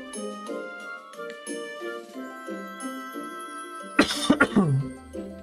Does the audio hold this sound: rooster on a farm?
no